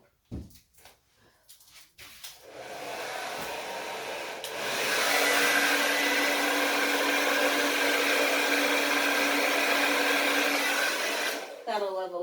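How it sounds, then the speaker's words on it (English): A hair dryer blows on wet black, silver and white paint on a split canvas, starting with a few clicks and then a loud, steady roar for about nine seconds before it cuts off. "We'll blow dry that real quick."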